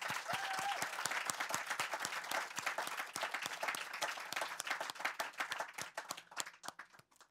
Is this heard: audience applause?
yes